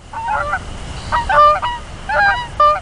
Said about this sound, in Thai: ห่านตัวผู้ก็ร้องเตือน